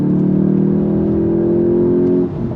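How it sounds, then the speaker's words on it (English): A 2025 Volkswagen GTI Mk8.5 hatchback's engine revs up steadily under hard acceleration, its tone climbing smoothly before a quick shift drops the pitch. "On throttle, here we go. Nice fast shifts, of course."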